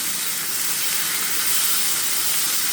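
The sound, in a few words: okra masala sizzling while frying in pan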